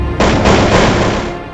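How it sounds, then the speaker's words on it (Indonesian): A loud, close burst of gunfire, a dense rapid roar of shots that hits suddenly and then fades over about a second with an echoing tail, heard near a post by a tall building. "tiba-tiba ia dikejutkan oleh bunyi rentetan tembakan yang rasanya tidak jauh"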